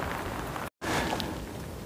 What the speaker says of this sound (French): vous voyez qu'il recommence à pleuvoir